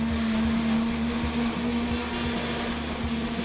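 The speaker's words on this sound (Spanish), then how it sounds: "ahora solamente queda licuarlo" A blender whirs steadily as it purées an oat flour and spinach batter, a loud continuous motor hum with a churning texture and no voices.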